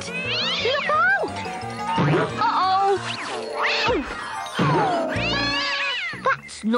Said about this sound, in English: Why does Bumpy Dog's ball sound like a cat?